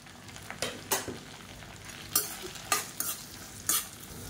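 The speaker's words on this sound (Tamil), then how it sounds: "இப்போ இது கூடவே மீடியம் சைஸாக ஒரு வெங்காயம் கட் பண்ணதை சேர்த்துக்கலாம்." Chopped medium-sized onion frying in a pan for tomato chutney, with a steady background sizzle broken by several sharp scraping stirs of a spatula at irregular intervals, close and alone with no talk.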